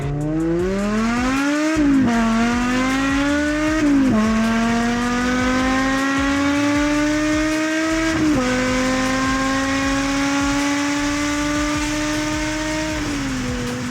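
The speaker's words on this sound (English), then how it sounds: "Took the M5 for another ride just to make sure everything was okay." A BMW E60 M5 with a transmission fault drives under steady engine load, its tone rising and dropping at several gear changes across a long, continuous, close-up pull with no talk.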